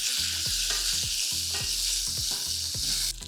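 Sesame seeds and peanuts roast in a dry pan, giving a steady rustling sizzle broken by rhythmic scraping knocks of a spoon stirring about every half second, close and fairly loud.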